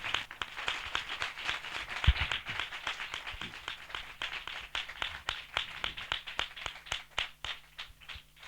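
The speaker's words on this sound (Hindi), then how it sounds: "हम जोरदार तालियों से उनका स्वागत करें" A church audience claps in welcome during a Hindi-language worship service, a steady run of hand claps with rhythmic peaks, moderately near and fairly soft, with no voices over it.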